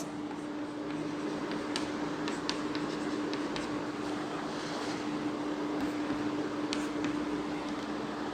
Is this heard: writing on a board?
yes